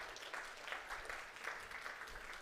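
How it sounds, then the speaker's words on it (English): A church congregation applauds during a Sunday service, soft and somewhat distant clapping from many hands that holds steady for a couple of seconds. "Let's give these guys a big round of applause."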